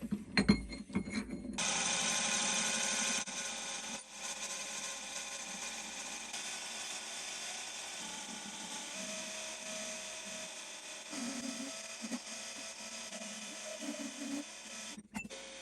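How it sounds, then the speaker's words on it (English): A mini lathe turning a metal part runs as a steady, continuous machine whine and hum, fairly close and loud, holding an even drone for most of the stretch with a brief start-up and a small change near the end, with no talk. "I'm just gonna turn it so that it can slot down in."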